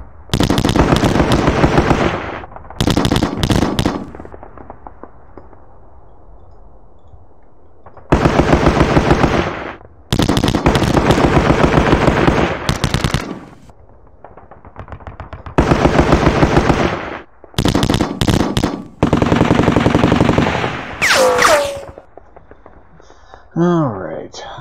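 Bursts of machine-gun and rifle fire from tanks and infantry in the wargame Sealion '40, loud rapid volleys repeating in separate blocks with quiet gaps between them.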